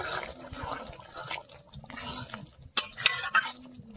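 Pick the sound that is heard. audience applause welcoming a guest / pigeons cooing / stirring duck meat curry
stirring duck meat curry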